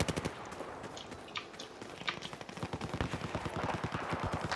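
Rapid gunfire from automatic weapons and rifles in the Battlefield 4 video game, team deathmatch, with dense bursts of shots crackling continuously and growing busier toward the end, no voices over it.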